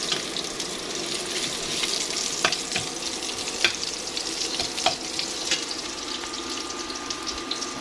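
Garlic for beef tapa with ampalaya sizzles steadily in hot oil in a pan, a close, continuous frying hiss broken by occasional stirring clicks and scrapes.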